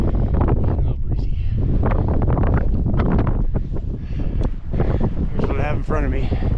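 Strong wind gusting across an open mountain bald on the Appalachian Trail, buffeting the microphone with loud low rumbles throughout while a person speaks over it.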